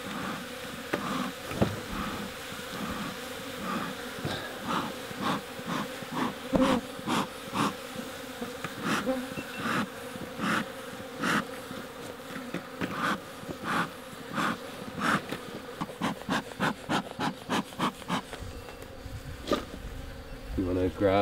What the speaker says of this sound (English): We're gonna put them onto this white sheet next to us just so we can help see the bees.